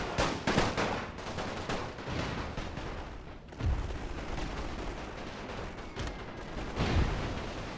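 Rifle volleys fired at close range in The Great War 6.0, an Austro-Hungarian battle game, a series of sharp cracking reports and rolling booms, with heavier blasts near four and seven seconds over steady background battle noise.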